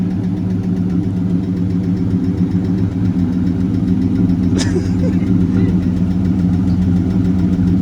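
A 1995 Chevrolet Caprice with a swapped 5.3 LS V8 idles steadily nearby, a loud continuous rumble with one brief sharp click partway through.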